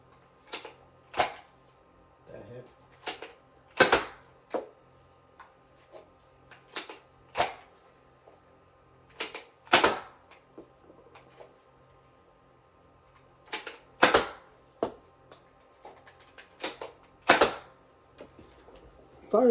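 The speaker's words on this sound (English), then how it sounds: "Firing analysis and conclusion of the Nerf Nite Finder. It fired alright, better than I expected it to" Nerf N-Strike Nite Finder dart blaster firing foam Elite darts, a series of sharp, snappy clicks and pops spaced a second or two apart, close and fairly quiet against a hushed room with a faint hum.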